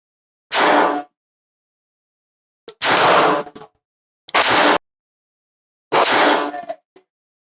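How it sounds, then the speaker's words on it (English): A Smith & Wesson Bodyguard 2.0 pistol with a carry compensator fires four sharp, loud shots at an outdoor range, spaced a second or more apart with silence between them. "fire a 10 round magazine at our target of just white box"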